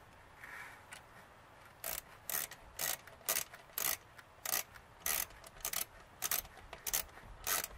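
Ratchet tightening a fastener while installing a K&N cold air intake on a 2021 Dodge Ram 1500 Laramie, a regular series of short, sharp clicking strokes, close and alone.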